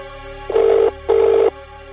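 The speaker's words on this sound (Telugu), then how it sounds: "ఫోన్ వస్తుంది" A telephone rings twice for an incoming call, two even electronic bursts with a short gap between them, clear and close over a quiet low hum.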